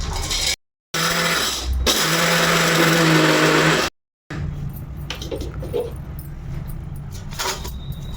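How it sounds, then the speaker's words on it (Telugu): A mixie grinder coarsely grinds roasted sesame seeds and peanuts into powder, a loud steady whirring drone in two bursts separated by brief silences, followed by rattling, clattering handling noises. "ఇప్పుడు వీటిని దాని మిక్సీ పట్టుకుందాం పౌడర్ కింద మరీ మెత్తగా కాదు బరకగా పట్టుకోవాలి"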